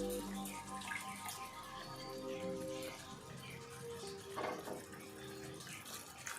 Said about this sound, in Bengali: আস্তে আস্তে করে জল দিলেন।